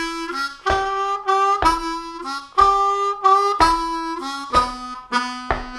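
A harmonica plays a turnaround lick of even eighth notes, mixing draw and blow notes with half-step bends, about a dozen distinct tones played clearly and alone at close range.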